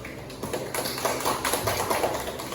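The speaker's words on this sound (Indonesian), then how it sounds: "beri aplaus ke temannya Kang Sayo" Classroom applause for a group presentation, a steady dense patter of many hands clapping throughout at moderate loudness, without speech.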